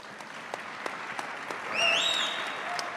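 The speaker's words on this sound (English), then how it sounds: "big round of applause for that." A conference audience at a Bitcoin industry event claps, scattered and moderately distant, with a few sharper individual claps. Some brief high tones sound partway through.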